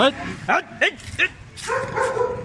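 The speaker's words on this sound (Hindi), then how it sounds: "दो कुत्ते आपस में लड़ रहे हैं।" German shepherds fight on a road, giving short yelping barks and whimpers in quick bursts followed by a longer snarling growl, close and fairly loud, with people's voices mixed in.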